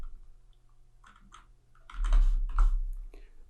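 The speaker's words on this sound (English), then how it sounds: "I'll just type startup" Quick typing on a computer keyboard, a short flurry of close, crisp key clicks after a few scattered taps, in a quiet room.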